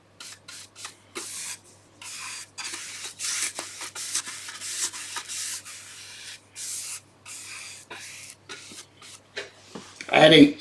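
Sanding a wooden dovetail box between coats of finish: repeated rubbing strokes in short bursts, close and moderately loud, with a louder scuff at the end.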